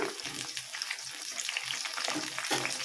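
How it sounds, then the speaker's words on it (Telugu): Chopped onion and green chilli fry in hot oil in a pan, giving a steady, close crackling sizzle with soft stirring scrapes throughout and no voices. "కొంచెం దోరగా ఉల్లిగడ్డ, పచ్చిమిర్చి అయితే వేయించుకోవాలి"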